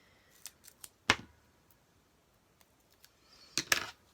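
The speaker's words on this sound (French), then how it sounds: "Donc là, je vais recouper avec le ciseau." Scissors snip thin strips of paper for a handmade Easter rabbit card, with a few faint small snips, one crisp loud cut, then a quick louder double snip, all close and quiet between.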